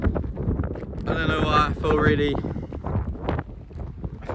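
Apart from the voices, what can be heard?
wind blowing, wind noise on microphone outdoors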